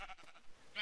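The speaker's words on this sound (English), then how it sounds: "Oh, now we're a sheep." A sheep bleats in a blocky sandbox video game, a short nasal cry heard close and fairly faint, with a brief second call near the end.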